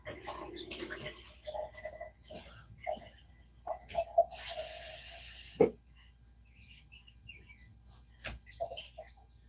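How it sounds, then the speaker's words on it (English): Tap water gushes for about a second while a coffee cup is rinsed, a brief hissing rush amid sparse quiet clicks and faint chirpy sounds in a mostly still room. "And I'm rinsing the coffee cup out as we speak."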